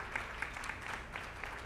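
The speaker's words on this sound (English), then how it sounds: "let's give a round of applause to Professor Bosco and his team" Audience applause at a Brazil Africa Forum conference session on artificial intelligence, honoring Professor Bosco and his team, sounds as steady, dense clapping throughout, moderately loud and without speech.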